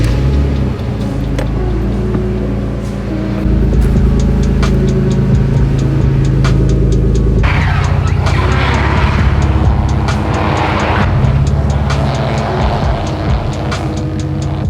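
A car engine, likely the Toyota Supra, cranks and catches. Loud low rumbling and revving follow, with the pitch shifting as the throttle blips, close by and without talk.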